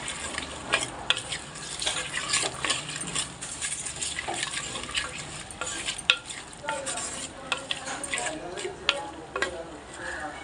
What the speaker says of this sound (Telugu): టమాటాలు కూడా వేస్తున్నాను. కలుపుతున్నాను